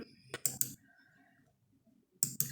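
Keys on a computer keyboard are typed in two quick bursts of a few close, crisp clicks, with a quiet pause in between.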